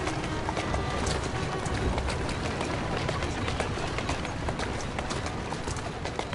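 A horse's hooves clip-clopping at a steady trot in a PS4 video game, a dense, even rhythm of hoofbeats that carries on throughout.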